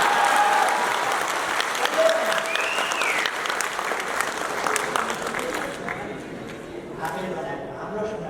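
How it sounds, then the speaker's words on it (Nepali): An audience at a Nepali political event claps in sustained, dense applause that gradually thins out, with someone speaking over it. "एकपल्ट ताली बजाउनुहोस् न।"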